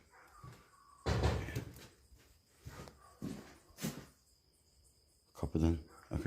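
A door in an old abandoned house gives a few sharp knocks and creaks in separate bursts, fairly close, with quiet pauses and a faint insect-like hiss between them.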